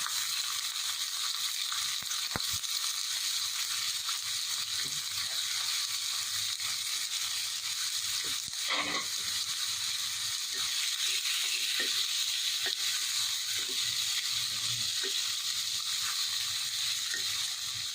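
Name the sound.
vegetables being stir-fried with meat in a pan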